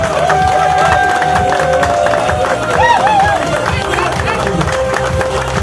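Applause and cheering from an audience at a company meeting in Semarang. A busy, loud crowd claps and shouts throughout, with whistles and excited voices on top.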